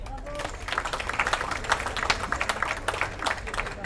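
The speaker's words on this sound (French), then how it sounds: "vous pouvez l'applaudir" Applause from an elderly crowd at a seniors' holiday meal gathering, a dense steady patter of many hands clapping close by, with some voices mixed in.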